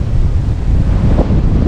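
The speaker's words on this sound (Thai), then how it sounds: "หนาวเพราะว่ามันลมแรงมากๆเลยลมแรงมาก" Strong, cold wind blows steadily at a mountain campsite in Khao Kho, buffeting the microphone with a constant loud roar and no talk.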